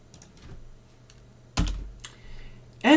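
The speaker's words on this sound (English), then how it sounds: "let's type the content of the file" A computer keyboard is typed on in sparse, quiet taps spread over a few seconds, with one louder clack midway and another near the end.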